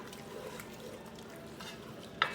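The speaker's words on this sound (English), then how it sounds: "we're also gonna scrape the brown stuff at the bottom" Browned bits being scraped from the bottom of a pot during deglazing with red wine for shepherd's pie: a low, steady scraping with faint simmering hiss, then a single sharp utensil clink near the end.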